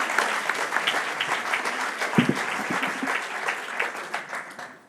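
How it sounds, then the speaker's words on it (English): An awards-ceremony audience applauding a nominee, a dense steady round of clapping that carries on for several seconds before tapering off toward the end. "A round of applause."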